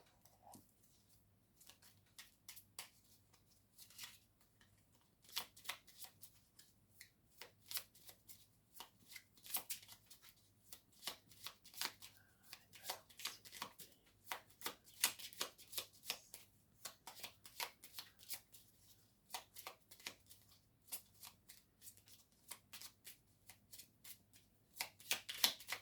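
A small deck of mirror-hours oracle cards is shuffled by hand, a long run of quiet, crisp riffling and flicking bursts close by, with short pauses between.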